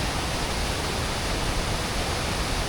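A raging waterfall near Lake Irwin by Crested Butte roars as a steady, loud, dense rush of falling water, constant and unbroken throughout with no voices.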